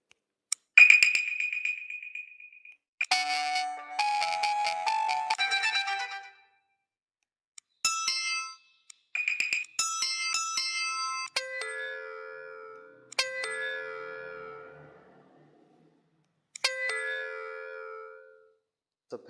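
A WhatsApp group ringtone plays on a phone, a loud electronic melody of bright chimes and tones in several phrases separated by brief silences, with no talking.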